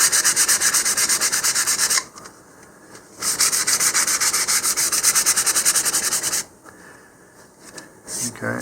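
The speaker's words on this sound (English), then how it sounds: "I'm going to go back to my 400 grit sandpaper here and just re-smooth this" Quick hand sanding of filler putty on a model rocket with 400 grit sandpaper: two long bursts of brisk back-and-forth scratchy strokes broken by short pauses, close up, with faint talk in the gaps.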